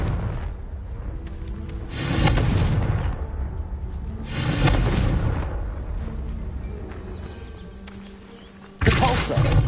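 Booming spell blasts in a Harry Potter game on PlayStation 5, with three loud bursts roughly two to three seconds apart and rumbling decay between them. A shouted spell cast sits in the mix.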